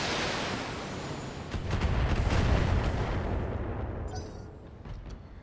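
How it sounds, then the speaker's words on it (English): LRM-20 long-range missile fire in the BattleTech video game: a dense, rumbling barrage of booms that swells around the middle and slowly tapers off, with no talk over it. "This got LRM-20, so we're gonna target this and fire."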